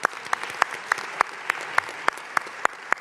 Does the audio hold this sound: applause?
yes